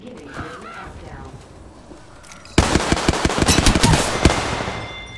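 Automatic weapon fire erupts halfway through in Apex Legends, a rapid, loud rattle of shots with short gaps, following a quieter stretch with brief game voice lines.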